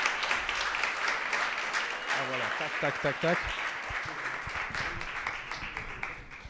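An audience at a political meeting applauds with steady, moderately loud clapping throughout, while a voice speaks briefly over it partway through.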